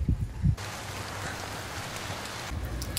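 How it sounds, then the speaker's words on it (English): Heavy rain pours down steadily in Vancouver, Canada, a dense, even hiss of drops close by, continuous and alone without voices. "it is raining quite hard right now"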